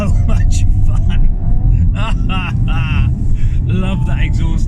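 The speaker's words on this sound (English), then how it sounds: "Love that exhaust note." A 2019 Audi RS 5 V6 growls with a low, steady exhaust rumble while being driven. A person talks over it throughout, and the engine sound sits underneath the voice.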